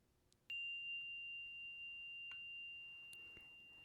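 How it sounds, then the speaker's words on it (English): A meditation chime rings once with a clear, sustained tone that lingers and slowly fades, alone in a quiet room with a few faint ticks around it. "I always invite the chime to sing."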